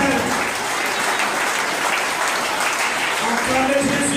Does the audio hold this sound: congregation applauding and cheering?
yes